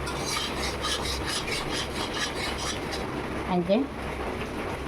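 Spice paste sizzles and fries in oil in a pan for a vegetarian Kashmiri dum aloo, a steady close crackling hiss that runs throughout, with a short spoken phrase near the end.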